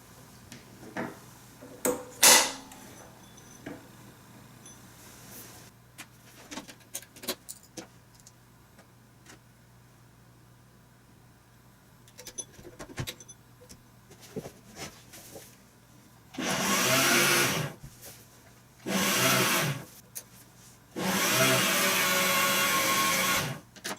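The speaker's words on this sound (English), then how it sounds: "we can thread it up and try sewing" A Singer 301 sewing machine runs in three steady bursts of stitching, each a few seconds long with short pauses between, after a stretch of quiet clicks and handling noises.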